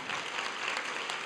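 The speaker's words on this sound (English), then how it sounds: "Give her a big round of applause." An audience claps after a lively kirtan evening at a temple, a dense, even patter of many hands heard somewhat distant and fairly quiet for the whole short moment.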